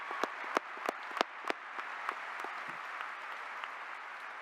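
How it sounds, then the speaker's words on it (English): A graduation audience breaks into applause, a dense wash of clapping with a few louder, sharper claps standing out near the start before it settles into a steady, even patter. "Can we give another round of applause for Benji?"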